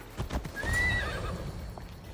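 A horse in Assassin's Creed Odyssey gives a few close hoof clops, then a drawn-out whinny that rises and falls, with a further faint hoof knock after it.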